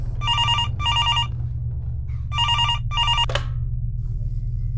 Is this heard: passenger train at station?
no